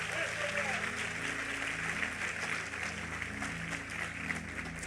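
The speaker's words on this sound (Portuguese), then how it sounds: "Vamos aplaudir a Ele" A church congregation applauds at the close of a sermon, a steady dense wash of clapping heard alongside sustained musical tones and a voice.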